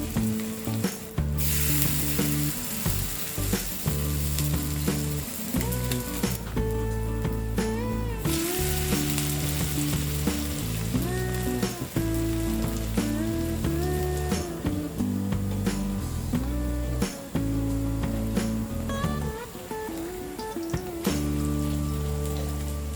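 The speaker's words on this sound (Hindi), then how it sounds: "हम इसे लो फ्लेम में फ्राई करेंगे।" Cabbage appam frying in a pan on a low flame, giving a steady close sizzle like light rain with small pops and soft crackles that carry on through the whole stretch.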